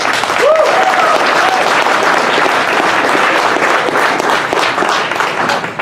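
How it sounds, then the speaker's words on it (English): A conference audience at a security event applauds a speaker, with dense continuous clapping close and loud throughout, plus a brief whoop or whistle early on. "so let's give him a great big hand."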